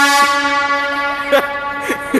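A loud air horn sounds as one sustained, steady multi-tone blast right from the start, fading over about two seconds, with short sharp bursts of noise on top near the end.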